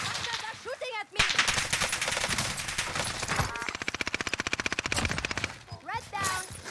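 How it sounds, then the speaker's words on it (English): Rapid automatic gunfire in the Call of Duty Rebirth Island battle royale, long loud bursts with a sharp opening shot and sustained rattling fire, punctuated by brief pauses and game effects. "They're shooting at me."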